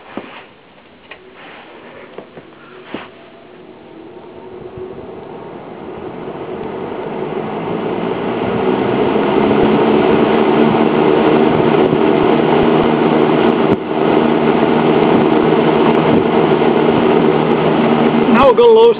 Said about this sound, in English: We'll start it on a high speed.